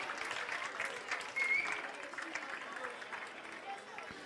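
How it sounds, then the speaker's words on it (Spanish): An audience applauds during a school chemistry science show, a steady wash of clapping from a crowd that swells briefly midway and holds at a moderate level throughout. "Venga, un aplauso."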